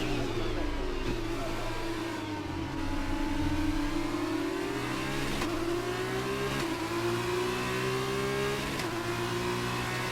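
Race car engine in an F1/F2 racing video game on the final lap of a sprint race at Jeddah, a loud high-revving whine that dips through a corner and climbs again with gear shifts.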